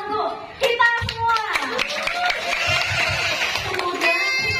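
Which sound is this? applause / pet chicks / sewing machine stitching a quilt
applause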